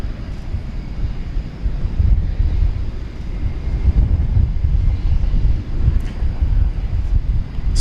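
An Airbus A321 from Spirit Airlines departs DFW at night, its deep engine rumble rising and falling under gusting wind buffeting the microphone, fairly loud and continuous throughout.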